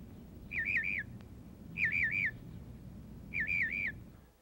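A rufous fantail, an Australian bird tending its young, repeats a bright whistled phrase three times at even intervals, clear and moderately close over a low ambient rumble.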